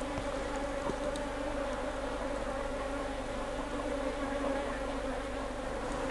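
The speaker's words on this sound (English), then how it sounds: "Squashed a few bees, unfortunately." Honey bees buzz steadily inside a swarm hive during an inspection, a dense, continuous hum filling the whole stretch with no talk over it.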